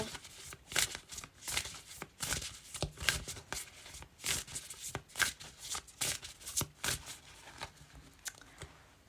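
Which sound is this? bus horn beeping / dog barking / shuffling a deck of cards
shuffling a deck of cards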